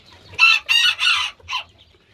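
Two roosters in a backyard flock crow in three loud, close bursts, followed by a shorter clucking call from the chickens, with near silence between the calls.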